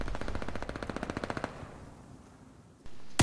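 Rapid automatic gunfire in a video game, a fast burst of evenly spaced shots for about a second and a half, then quiet with a sharp click at the end.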